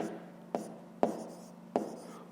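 A pen on paper during a fifth-grade math exercise makes three sharp taps, spaced about half a second apart, each followed by a short scratch, close and quiet with no talking.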